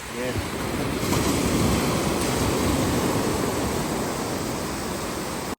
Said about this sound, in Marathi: समुद्रकिनारी बसून लाटांचा तो सुमधूर गुंज ऐकणं हा एक ध्यान साधनेचा अनुभव आहे